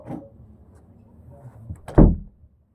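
A door swings and thuds shut once near the end, a fairly loud close following quieter rattling and shuffling in a room.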